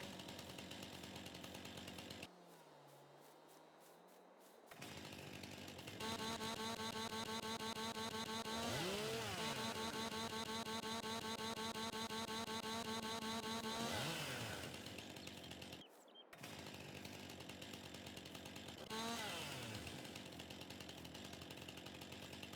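A chainsaw in Farming Simulator 22, delimbing felled trees at a western logging camp, revs loudly and steadily for long stretches, with brief pitch sweeps as it bites and short pauses between cuts.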